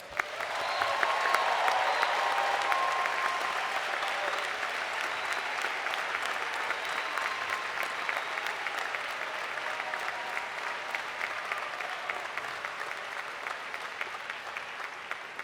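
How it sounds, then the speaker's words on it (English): A large graduation commencement audience claps in a dense, sustained wash of applause, swelling quickly at the start and then tapering gradually over about fifteen seconds without fully stopping. "Let's give them one more round of applause."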